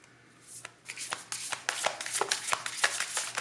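Oracle cards being handled and shuffled: soft papery riffles and taps build into a run of quick irregular flicks, close and fairly quiet, with no talking.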